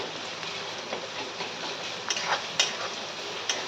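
Onion frying in a pan for Khandeshi brinjal bharit, stirred now and then: a continuous close frying hiss broken by light taps and scrapes of a spoon.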